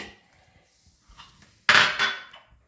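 A metal pot set onto a stove while making işkembe çorbası, with a single clear clank of metal after some quiet handling noises, close by and then fading out.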